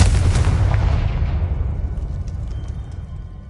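A Confringo blasting spell in Hogwarts Legacy erupts in a loud, close explosive boom at once, then rumbles and fades slowly over a few seconds, with no talk.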